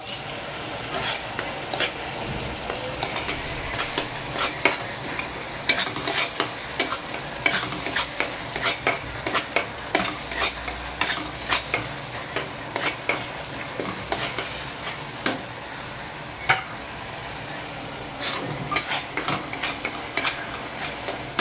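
Red chilli powder, coriander powder, goda masala and kitchen king masala fry in a pan for shev bhaji while a spoon stirs them, a loud continuous sizzle punctuated by repeated scraping clinks of the spoon against the metal.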